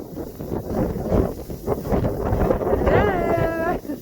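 Wind gusts steadily across the microphone on a riverbank during a summer outing, a loud continuous rush and buffet that fills the clip, with a brief tonal squeak near the end.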